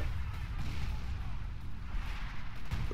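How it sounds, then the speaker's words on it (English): Artillery thunders during fighting in a narrow corridor in Company of Heroes' Battle for Caen campaign, a continuous low rumble of distant shelling and booms, with faint talk beneath. "Some really hard fighting in this little corridor where artillery is going in"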